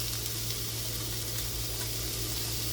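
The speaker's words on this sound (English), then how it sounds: "we're going to saute this up till translucent" Food sautéing in a pot for stuffed acorn squash, a steady low sizzle and hiss continuing evenly throughout with no talking.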